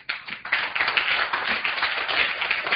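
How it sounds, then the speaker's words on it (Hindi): Students in a Hindi class break into lively applause, a dense burst of close, steady clapping that carries on for a few seconds. "तालियां बजा दीजिए अपने लिए"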